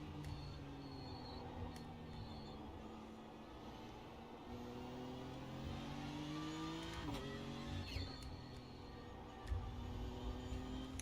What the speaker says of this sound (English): Yeah, I've just let a car go through.